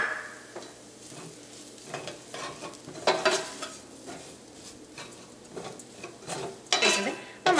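Ground coriander and cumin fry in oil for a Kerala chicken masala while a spoon stirs them, giving a soft sizzle under irregular scraping and clinks against the pan.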